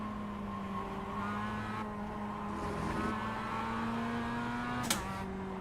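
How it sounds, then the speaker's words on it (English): A Mazda MX5 hums steadily at Oulton Park in iRacing, a faint continuous engine drone with shifting pitch. A brief sharp burst rises near the end as a faster class race car approaches. "there's a faster class car approaching"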